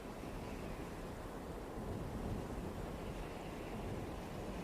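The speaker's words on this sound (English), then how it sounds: "I hear wind-like noise." Steady, wind-like rushing noise that hardly varies, a broad roar with no voices, like gusts buffeting a microphone or surf in the distance.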